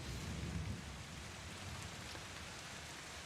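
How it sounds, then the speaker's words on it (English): Steady rain hisses under low rumbling thunder in a storm backdrop for a fantasy tabletop role-playing session, with a heavier roll at the start fading into even, soft downpour. "You hear the thunders crashing, the lightning flashing."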